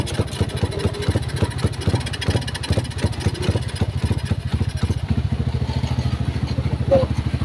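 A motorcycle engine running unevenly because of weak CDI current from damaged wiring, idling close up with a loud, choppy, pulsing beat that stumbles irregularly throughout.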